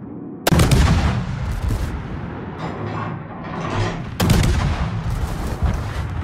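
Naval gunfire in a warship video game as an enemy destroyer is blown up: two heavy, booming cannon blasts a few seconds apart, each followed by a long rumbling roar and clatter of battle noise.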